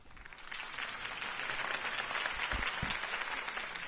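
A crowd applauds steadily after a political campaign speech, a dense wash of clapping that holds at full strength throughout with a few dull thumps underneath.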